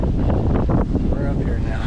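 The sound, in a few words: strong wind on the water while boating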